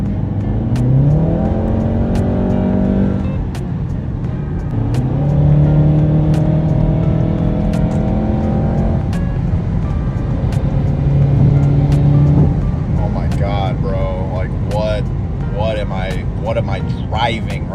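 A Volkswagen Mk7 Golf R accelerates hard, its engine note climbing in pitch through several gear pulls with short drops between shifts. The sound is loud and close and sustained over the whole stretch.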